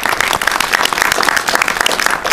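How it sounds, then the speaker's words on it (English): Audience applause rounding off an evening candidate forum for congressional hopefuls, a dense, steady burst of many hands clapping throughout, fairly loud and close, with no talk over it. "One more round of applause for our candidates."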